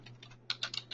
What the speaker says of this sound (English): So I want to type up this amendment